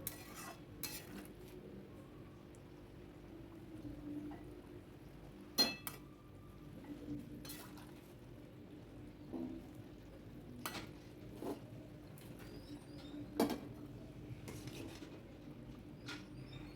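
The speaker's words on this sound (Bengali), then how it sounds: "এবার বেগুনগুলো দিয়ে দেবো।" Eggplant pieces go into a simmering fish curry in a pot, with scattered sharp clinks and scrapes of a metal spoon against the pan over a faint bubbling background, all quiet and close.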